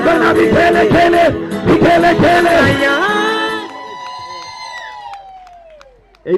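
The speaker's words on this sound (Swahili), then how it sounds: "Shangwe na vigelegele." A crowd at a market mega crusade cheers and ululates, with loud, dense voices and high trilling rising together and then fading into sustained tones before a final sharp burst.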